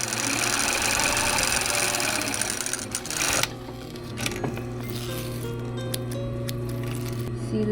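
A sewing machine stitches fabric for shorts with a loud, steady mechanical whir that stops about halfway through, leaving quieter handling clicks and rustles.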